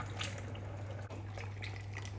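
Water dripping and trickling from rigatoni pasta lifted out of a cooking pot, light splashy drips over a steady low hum, no talking.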